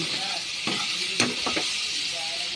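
Pork sizzles in a pan while it is stirred with fermented shrimp paste for binagoongang baboy, a steady frying hiss broken by several close scrapes and clinks of the utensil against the pan.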